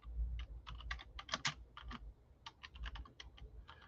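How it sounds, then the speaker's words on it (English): Typing on a computer keyboard, fairly faint and close, as quick clusters of crisp key clicks with short pauses between bursts and no one talking. "I'm just going to type in"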